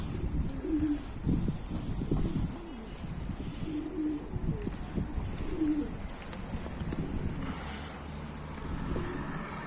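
Several soft, throaty pigeon coos repeat at a steady rhythm in a pigeon coop over a continuous hiss, with scattered rustling and low murmuring in the background.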